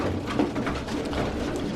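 Pigeons coo softly while feeding after a three-hour flight, low murmuring calls close by over a steady rustling background, with no talk.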